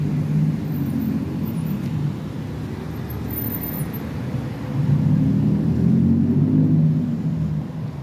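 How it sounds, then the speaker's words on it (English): Busy traffic on Atlantic Avenue in New York City rumbles on without a break, a dense low roar of passing cars and heavier vehicles, with a swell as larger vehicles go by close. "As you can see, the traffic is very,"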